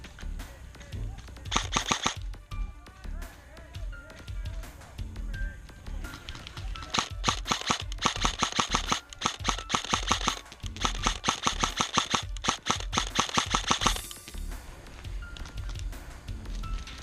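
Airsoft guns fire during an outdoor airsoft game, rapid bursts of sharp clacking shots in long strings, fairly loud and close, with players shouting in between.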